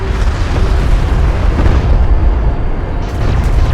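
A vehicle blows up in the real-time strategy game Homeworld: Deserts of Kharak, a dense, loud, sustained rumbling blast filling the whole moment without a break.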